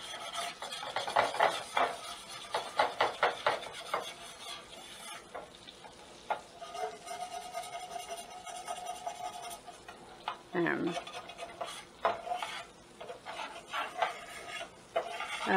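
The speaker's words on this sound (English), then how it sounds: "it wants you to scrape like all the brown leftovers from the scallops into the butter" Spatula scraping browned scallop bits into butter in a pan, giving a run of quick scratchy strokes and soft clatter, with a faint sizzle underneath and talk in between.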